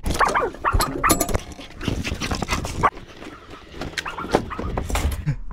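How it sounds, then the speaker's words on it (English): A dog barks and whimpers up close beside an Amazon delivery van, with short irregular bursts of barking and vocal noises, fairly loud, with some rustling in between. "Don't you just love dogs"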